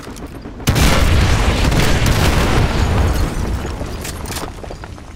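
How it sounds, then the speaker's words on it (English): Artillery shells explode in a Call of Duty: Modern Warfare 2 Remastered mission, a sudden loud boom giving way to a sustained rumbling roar of blasts that slowly eases near the end. "Fire mission received. Artillery inbound."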